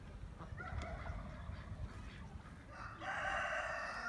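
Chickens and roosters in a Turkish backyard give faint clucks and a crow, with more calls rising toward the end, all heard quietly at a distance.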